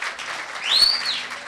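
Church congregation applauding in praise, a short burst of clapping that swells slightly and holds steady, heard at moderate distance.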